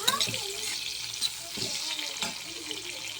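Cumin and turmeric frying on a high flame, a steady bright sizzle with a few sharp crackles and stirring scrapes, close and alone.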